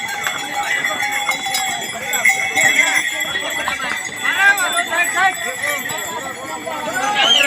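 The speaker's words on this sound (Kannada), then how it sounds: "ಒಟ್ಟಲ್ಲಿ ಎಲ್ಲರೂ ಕುದುರೆ ಮೇಲೆ ಬರ್ತಾ ಇದ್ದೀವಿ" Several horses carrying riders walk along in light rain on an outdoor location shoot, their hooves clip-clopping in a steady, uneven patter throughout, mixed with rustling ambience and voices in the background.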